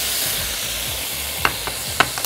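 Steady hiss and sizzle of meat searing in a hot frying pan for a steak, with a few brief clinks of a utensil against the pan.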